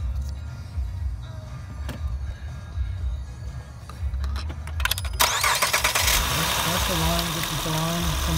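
A 2007–2008 Acura TL sedan engine is cranked and fires up, then settles into a steady idle after a fresh starter solenoid install; people talk nearby before and during the start.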